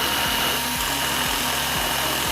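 An electric drill runs steadily and loudly close by, its motor whine joined by a repeating rhythmic grinding as the bit works, with no talking.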